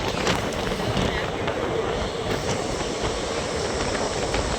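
A train rolls past steadily on a journey to Mantralayam, its broad rumble and faint wheel clatter filling the clip at constant loudness with no break.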